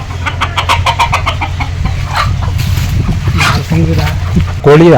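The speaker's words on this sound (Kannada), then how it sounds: "ನೋಡಿ ಫ್ರೆಂಡ್ಸ್ ನಾಟಿ ಕೋಳಿ ಸಾಕ್ತಾ ಇದ್ದಾರೆ" Native free-range chickens cluck and call close by in a busy, steady chorus on a poultry farm, with people talking over them and a louder squawk near the end.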